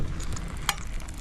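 Food heating and cooking in a British insulated field pack with a PFM40 cook kit, a soft steady sizzle and crackle close by with one brief sharp click, no voices.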